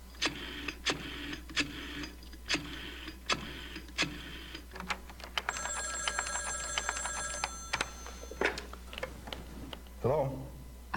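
An old-style telephone bell rings in short repeated bursts in the Gabriel Knight 2 adventure game, alongside regular ticking, with a voice speaking near the end.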